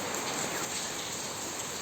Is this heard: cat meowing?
no